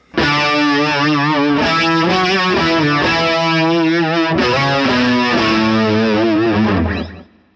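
Distorted electric guitar plays sliding octaves with a wavering synth-style vibrato. A continuous loud, shimmering line glides between pitches for several seconds and then fades out, with no voices.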